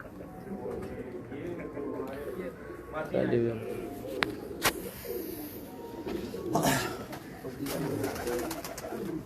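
Pigeons of a home-bred fancy breed coo softly amid a busy bird gallery, with scattered calls and flutters over steady background chatter; people talk throughout.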